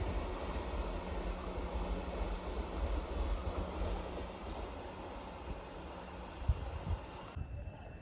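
Vande Bharat express, train 20634 between Thiruvananthapuram Central and Kasaragod, rushing through a small station at Pallippuram with a steady loud roar and rumble that holds for most of the span, then cuts off abruptly near the end.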